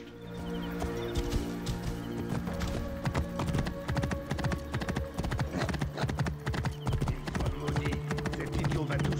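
Rapid clip-clop of horse hooves at a gallop in the video game Assassin's Creed Origins, continuous and close, with an occasional whinny layered over background music.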